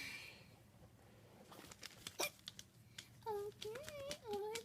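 A voice imitates hiccups with a few short, high, squeaky yelps near the end, after soft background sound and some brief clicks.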